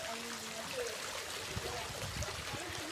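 Waste water runs through a street in Baldia Town, a faint steady trickling stream under distant background noise.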